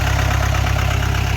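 A Mahindra Jeep CJ 500 MDI idles close by with a steady, low, pulsing thrum, loud and unbroken throughout the short stretch.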